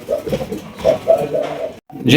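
Lahori pigeons cooing close by in a loft, soft low throaty coos repeating over a couple of seconds, mixed with someone talking.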